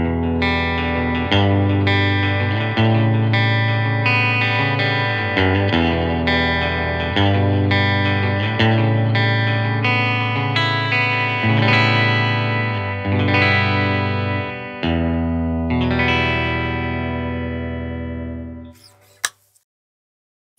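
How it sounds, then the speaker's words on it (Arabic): Epiphone DC Pro electric guitar played through its bridge single-coil pickup, ringing chords and notes with effects, steady and close, ending in a decaying final chord and a small click. "زي ما سمعنا صوت الجيتار في النك بوزيشن وفي البريدج بوزيشن همبكر وسنجل كويل"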